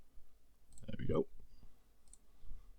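A computer mouse gives a few soft, close clicks during a short stretch of quiet room sound, with a faint low murmur under them.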